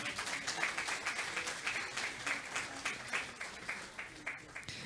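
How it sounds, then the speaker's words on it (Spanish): Steady congregational applause fills a church at a New Year's worship service, a continuous mass of clapping with a slightly pulsing rhythm. "Fuerte los aplausos"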